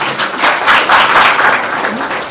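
A crowd at a Shiv Jayanti festival gathering bursts into loud, close applause, a dense wash of clapping that rises quickly and holds for the couple of seconds shown.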